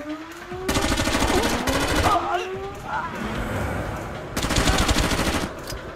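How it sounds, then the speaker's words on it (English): Shotgun blasts in the video game Far Cry Instincts on the original Xbox, several loud bursts in quick succession with gaps between, close and harsh. "Shotgun."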